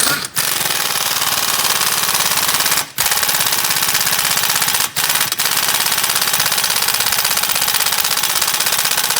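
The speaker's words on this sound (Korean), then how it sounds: "한번 풀렀다가 다시 잠가 봅니다." Loud continuous rattling of a pneumatic impact wrench loosening and retightening a car undercarriage nut, running in long bursts with two brief pauses, close by.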